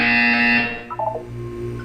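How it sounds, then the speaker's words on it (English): Electronic buzzer sounding during a wellness exercise in the video game Portal 2, a loud harsh tone holding for about half a second before fading, followed by brief chiming blips. "You will hear a buzzer."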